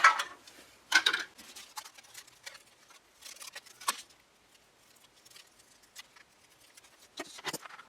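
Scissors cutting out paper glasses for a homemade puppet, faint irregular snips and paper rustles close up, quiet between cuts.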